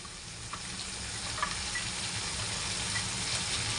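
Bay leaf and chopped peeled ginger fry in a pan over a gas stove turned to full, giving a steady, close crackling sizzle with no talk.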